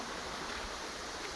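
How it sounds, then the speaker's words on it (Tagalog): Creek water flows steadily along a long stream, a continuous rushing wash that stays even and close throughout, with no voices over it. "Binaybay ko tong sapa."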